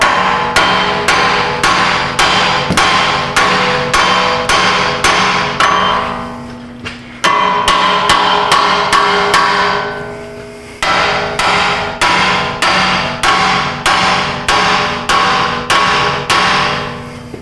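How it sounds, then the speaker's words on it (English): A Brooks hammer striking metal in a repair shop: loud, rapid, steady blows at roughly two per second, close and ringing, with a brief pause and a second run of strikes. "real hammers made by real men, right here in America"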